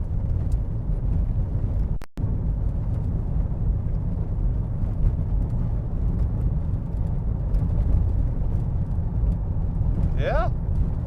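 A cheap used car with a front-end wobble drives steadily, its engine and road noise a continuous low rumble, broken by one brief sharp dropout that may be a gear change.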